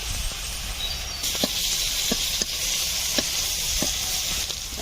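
Green chilli, salt and turmeric sizzle in hot oil, a steady close frying hiss with occasional stirring clicks and taps.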